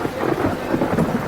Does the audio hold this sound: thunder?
yes